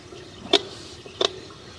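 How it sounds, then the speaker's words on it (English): Water inside a black ABS sewer pipe, heard as two distinct drips about a second apart over a faint, hollow background hum. "it does appear that we do have a little bit of water running."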